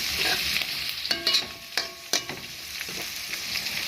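Potatoes and onions fry in a pan with a continuous bright sizzle, broken by several sharp stirring clacks and scrapes of a spoon against the metal, close by.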